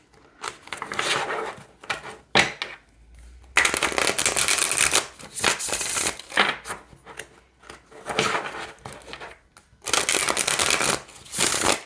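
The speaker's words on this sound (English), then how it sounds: "let's see how this deck shuffles" A tarot card deck being shuffled repeatedly, with bursts of riffling and rustling separated by short pauses, close up and fairly loud.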